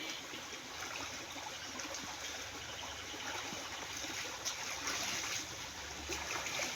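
A stream flows close by with a steady, even rush of water and a light trickling texture, running continuously with no voices.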